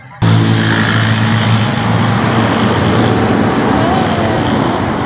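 A vehicle passes loudly and close on a rural road, a sudden steady roar of engine and tyre noise that begins abruptly and holds for several seconds, with speech mixed in.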